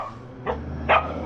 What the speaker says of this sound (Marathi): कुत्र्यांची भांडणं